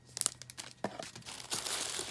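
Craft paper being handled during an unboxing of a crafting subscription box, close crinkling and rustling with a few sharp crackles early on, then a steadier papery rustle, heard alone.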